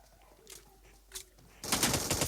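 Video game gunfire, a sudden loud burst of rapid automatic shots filling the last second, preceded by quieter scattered game sounds.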